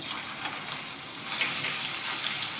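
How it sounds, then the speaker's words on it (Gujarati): Garlic and ginger paste sizzling in hot oil for spicy Sev Usal, a steady dense hiss and crackle that flares louder halfway through, close and continuous with no talking. "હવે તેલ ગરમ થઈ ગયું છે તો સૌથી પહેલાં હું અહીં લસણ અને આદુની પેસ્ટ નાખીશ"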